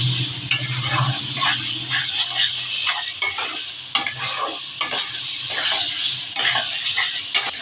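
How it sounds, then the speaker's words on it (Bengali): Spiced potatoes and prawns fry and sizzle steadily in a pan while being stirred, with the scrape of utensils against the pan and occasional clinks rising over the continuous hiss. "এবার আমি গরম জল অ্যাড করব।"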